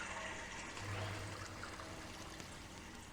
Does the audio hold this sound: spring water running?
yes